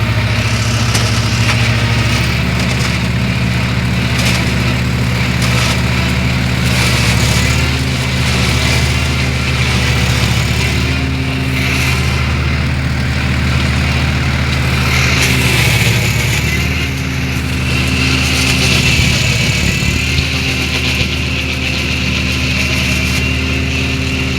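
A Swaraj 744 tractor engine driving a Shaktiman mobile shredder cutting castor plants idles and chugs continuously at close range, a steady low drone with rougher, fluctuating revs along the way.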